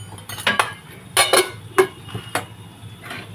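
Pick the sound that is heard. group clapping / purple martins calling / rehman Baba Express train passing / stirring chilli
stirring chilli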